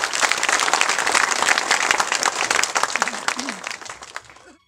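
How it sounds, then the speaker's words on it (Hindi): A crowd at a public felicitation ceremony in India applauds steadily for several seconds, dense clapping close by, with a voice briefly audible near the end as the clapping fades out. "जोरदार तालियां"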